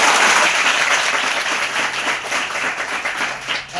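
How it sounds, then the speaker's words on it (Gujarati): An audience at a gathering bursts into loud, sustained applause, a dense wash of many hands clapping that slowly thins toward the end. "તો એમના માટે આપણે એક જોરદાર તાળીઓ."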